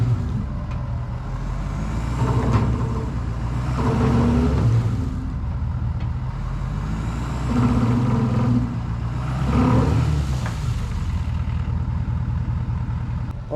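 A 1967 Ford F250 crew cab truck with 42-inch tires runs in four-wheel drive low, its engine droning steadily and loudly up close, swelling and easing in several surges as it labors for grip.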